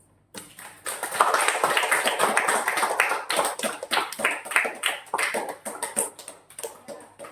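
Students applaud in a classroom, a burst of many hands clapping that rises quickly, holds for several seconds, then thins into scattered, uneven claps near the listener.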